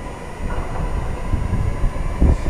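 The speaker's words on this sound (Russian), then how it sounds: "Как вам трамвай, ребятушечки? Он еще и поет." A tram rolls along its tracks with a continuous low rumble and rattle, close and fairly loud, with a heavier thump near the end and no voices.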